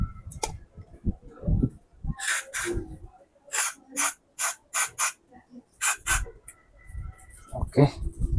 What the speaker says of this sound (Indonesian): Nah, ini lubang yang ini disemprot juga pakai karbu cleaner ya.